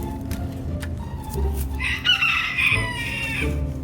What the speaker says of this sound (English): The neighbor is here to grab these chickens.